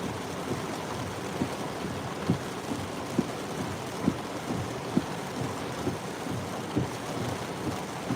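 Heavy rain during a tornado warning pours down steadily and loudly in a dense, unbroken wash, with faint sharp taps and thuds recurring throughout, and no voices.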